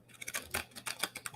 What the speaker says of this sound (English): shuffle in this deck here.